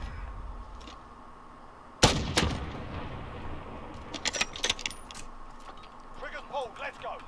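Gunfire in Call of Duty Modern Warfare, with a sudden loud blast followed by scattered sharp shots and clattering, while voices talk over the action.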